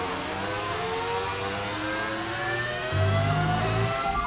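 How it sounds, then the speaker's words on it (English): A racing car's V10 engine in the F1 25 video game drones steadily with rising whine-like harmonics, then gains a deeper surge near the end, fairly loud and alone. "It's the beauty of the V10 engine is what you're hearing right now."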